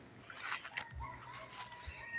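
Chickens cluck and a rooster crows faintly in a backyard coop where birds are being housed, the calls thin and somewhat distant over a quiet background.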